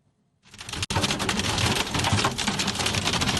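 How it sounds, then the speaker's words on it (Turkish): Egg-sized hail pounds down during a storm in Kastamonu, Turkey, a dense, loud clatter that starts abruptly after a short silence, breaks for an instant, then rattles on steadily. "Yumurta büyüklüğünde dolu yağdı"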